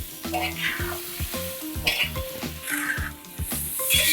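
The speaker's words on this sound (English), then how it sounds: "just fry the chicken on a high flame for 3 to 4 minutes" Steady sizzling of chicken frying in butter in a hot pan over a high flame, close up, with rhythmic scraping and clinking of a utensil stirring.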